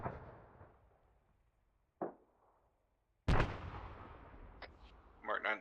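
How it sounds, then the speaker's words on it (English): Mark 19 grenade rounds from the Arma 3 military game land in a few separate sharp impacts, each a loud crack with a trailing rumble, the last burst the heaviest, spaced apart over quiet background. "Mark 19 rounds are hitting all around it, but ineffective."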